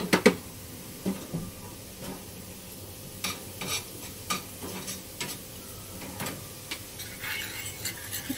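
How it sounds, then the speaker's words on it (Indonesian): Seasoning for steamed prawns with vermicelli stirred with a spoon in a bowl, soft scraping and clinking strokes repeating through the clip, close and fairly quiet with no talk. "Aduk ya guys."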